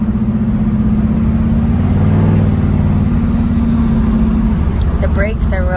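A 1966 Ford Mustang with side pipes idles and revs in a loud, deep, continuous engine rumble, close and steady, with a brief swell in the middle.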